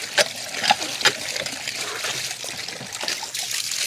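Water is poured and splashes while a man bathes: a steady close trickle with a few sharper splashes near the start and no talking.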